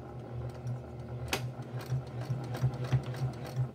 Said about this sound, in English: Now we're going to take this to the sewing machine and sew it closed.